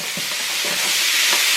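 Curry shrimp stir fry is stirred in a hot pan, a loud broad hiss of sizzling with a few soft scraping strokes, close and steady without speech.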